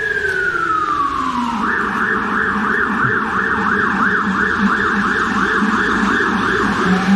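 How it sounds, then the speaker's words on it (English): Emergency vehicle siren during a storm in Sydney, first a falling tone and then a loud, steady wailing up-and-down cycle that continues throughout, alone and close. "I've never heard that siren ever."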